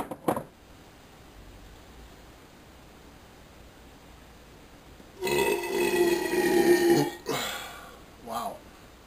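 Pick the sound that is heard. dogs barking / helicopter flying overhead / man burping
man burping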